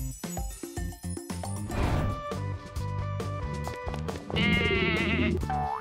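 A goat in a cartoon scene bleats loudly over bright tinkling music and clattering effects, its wavering cry standing out near the end of the bustling passage.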